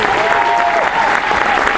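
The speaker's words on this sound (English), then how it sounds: "if you got hands, clap them together, make some noise" A crowd at a traditional music performance at UMBC claps and cheers in a dense, continuous wash of applause, loud and close, with a sustained whistle or voice tone threading through.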